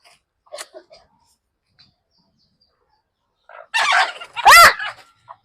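A few soft squawks early on, then a burst of loud clucking and a sharp rising call from chickens close by, with a brief pause between.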